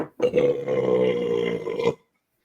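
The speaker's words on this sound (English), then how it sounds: "You get that first burp." A single long, loud, rumbling human burp close up after drinking MD 20/20 fortified wine, lasting almost two seconds and ending abruptly.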